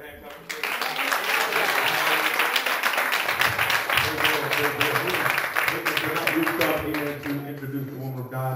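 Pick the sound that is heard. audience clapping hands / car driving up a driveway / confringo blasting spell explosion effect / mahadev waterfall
audience clapping hands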